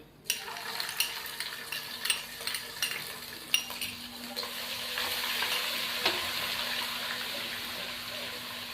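Ginger garlic paste sizzles and crackles in oil in a pan while a spoon scrapes and taps several times, the hiss growing steadier and louder toward the end.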